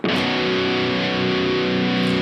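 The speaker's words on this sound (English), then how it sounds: "So let's go back to position 1 and go heavy." A heavy distorted electric guitar, an Ibanez GIO 7-string fitted with Fishman Fluence pickups, grinds out a dense, sustained low chord that rings loud and steady throughout with no talking.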